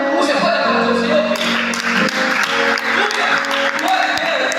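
A church congregation applauds during a Portuguese-language sermon, a sustained crowd clap under a loud preacher's voice and sustained musical tones.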